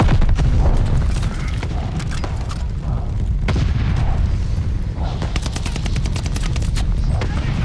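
In Call of Duty: Vanguard, a bombing run lands as a dense stream of heavy explosions and rapid gunfire, booming and rumbling almost without pause for several seconds.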